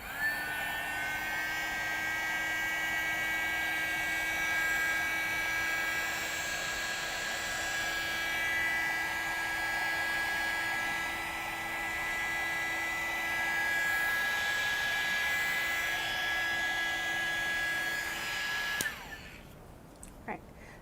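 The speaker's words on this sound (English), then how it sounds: "So this is our multi-use heating tool." A small multi-use heating tool blows hot air to dry paint on a pumpkin craft project, giving a steady whining hum with a high tone that runs unbroken for about nineteen seconds, then cuts off abruptly.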